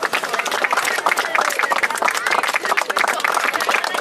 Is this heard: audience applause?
yes